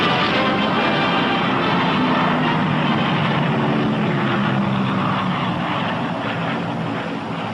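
Twin engines of a P-61 Black Widow night fighter from World War II, a loud, continuous propeller drone that holds steady throughout and stays close, with no talking.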